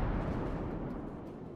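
Heavy guns of the cruiser Cleveland firing in World of Warships, a dense rumbling boom that fills the whole moment, loud and continuous without separate shots, with no speech.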